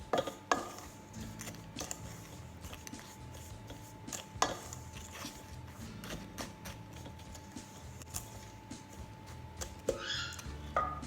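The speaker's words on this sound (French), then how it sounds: "on mélange les ingrédients secs, donc la farine," Flour, sugar and almond powder stirred together in a bowl for chocolate financiers, heard as soft scraping with occasional clinks of a utensil against the bowl, close and quiet, with no talk.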